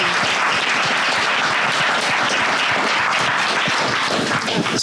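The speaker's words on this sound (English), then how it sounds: "Give Barnaby a huge round of applause" A live podcast panel audience applauds panelist Barnaby in a sustained, even roar of clapping hands, dense and fairly close, holding steady without a break and with no distinct speech.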